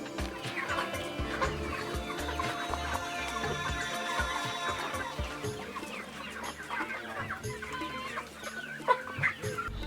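Broiler chickens on a poultry farm clucking as a busy, continuous flock, with many overlapping clucks and a few louder calls near the end, close and steady without speech.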